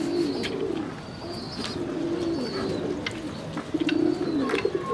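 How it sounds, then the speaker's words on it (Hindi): Pigeons in a loft coo repeatedly in soft, rolling phrases near at hand, with occasional higher chirps and some light fluttering and shuffling around them. "इस तरफ इनके हैं जी जोड़ा जोड़ा वाले कबूतर"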